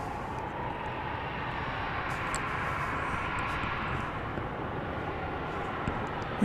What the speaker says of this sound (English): we've got another plane coming in on the east side, on the west side